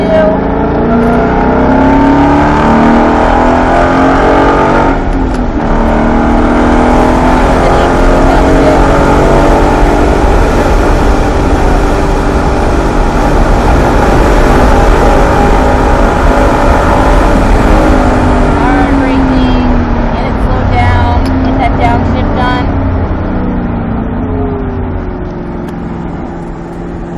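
Ford Performance car driven hard on the Charlotte Roval road course, a loud, continuous engine roar heard from inside the car that rises with each gear, with shift dips and a fade as it slows near the end.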